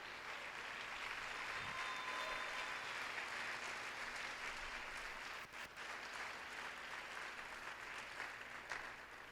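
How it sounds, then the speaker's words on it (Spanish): A church congregation claps for God in sustained, dense applause that fills the room at an even level, a faint tone and a few thumps breaking through near the middle. "Dale el aplauso a Dios por..."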